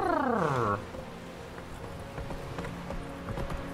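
Uneven clopping hoofbeats of a horse climbing stairs in The Witcher 3 thud and scrape over a steady game ambience, following a loud descending harmonic tone at the start.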